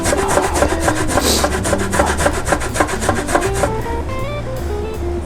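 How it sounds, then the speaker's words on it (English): Citrus peel being zested on a grater while cooking octopus, a steady run of rhythmic scraping strokes close by, with music playing underneath. "So let's just zest it."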